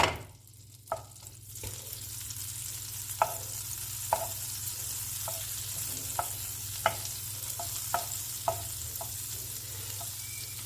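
Butter melts and sizzles in a pan on the stove, a soft continuous hiss broken by occasional sharp clicks of a utensil tapping the pan, close and steady with no voices.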